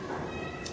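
A puppeteer's voice imitates a bobcat meow in a short, faint, drawn-out mewing call.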